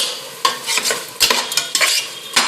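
Tomatoes with rock salt sauté in a hot pan, with a steady sizzle broken by repeated sharp scraping stirs of a spoon against the metal, close and loud, with no voices.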